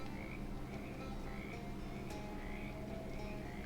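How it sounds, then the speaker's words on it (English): Frogs croak and peep in a swamp in a video game, with repeated rising chirps over a steady low chorus. The sound is continuous and moderately faint, with no voices. "Soon you notice the peeping and parping of frog"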